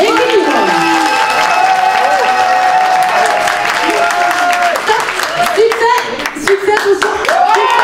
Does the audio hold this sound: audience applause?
yes